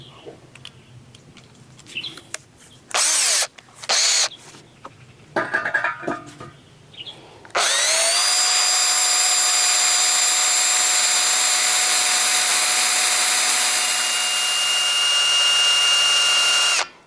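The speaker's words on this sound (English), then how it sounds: "That's the new drill bit, right?" A power drill with a new bit whines steadily as it bores into timber for a frame, loud and sustained for about nine seconds after a few short bursts and some handling noise.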